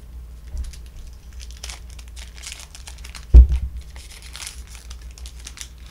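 Plastic wrapper of a Pokémon Champion's Path card pack crinkles and rustles close by while scissors snip, and one sharp thud lands midway through.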